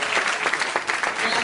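A church congregation claps loudly and steadily at a service, a dense, close burst of applause filling the whole moment.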